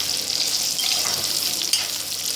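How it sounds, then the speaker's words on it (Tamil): Soya chunks frying in hot oil give a steady, dense sizzle with crackling bursts, close and continuous with no talk over it. "எண்ணெயில் பொறிக்கணும் பொறித்து அதை கொஞ்சம் கொஞ்சம் பொ பொன் நிறமாக ஆனவுடனே எடுத்துக்கணும்"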